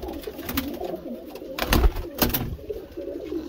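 Sonipat lalban pigeons coo in a few soft, throaty bursts close by, separated by short pauses over a quiet background.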